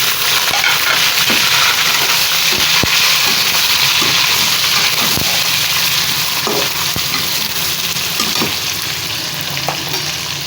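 Chicken and cumin seeds fry in a pot with a loud, continuous sizzle and hiss, punctuated by occasional clinks and scrapes of stirring; no talking.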